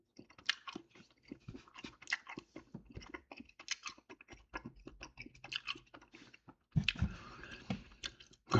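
Gum is chewed close to a webcam mic in a garage, giving steady wet smacks and crunchy bites in an irregular rhythm that stays loud and intimate throughout, with no talking.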